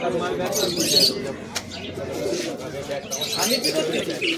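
Caged pigeons at a pigeon market coo softly and chirp nearby while a person talks over them.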